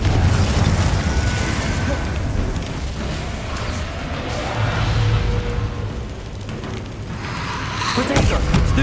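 Confringo blasting spell going off in Hogwarts Legacy, a sustained low booming blast with crackling bursts and rumble that runs the whole stretch and swells again near the end, loud and dense.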